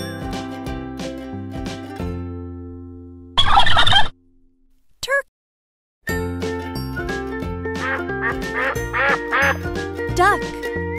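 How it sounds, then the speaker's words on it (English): A cartoonish duck quacks in a children's animal app, heard as a short burst of quacks between music with chimes, and a voice names the animal. "duck."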